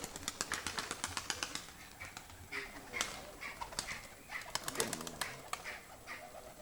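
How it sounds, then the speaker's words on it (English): Bred pigeons fly around a neighbor's yard, with rapid wing-flapping bursts repeating throughout and soft cooing underneath, fairly close and moderately loud. "Our neighbor is breeding pigeons, and they are flying around now."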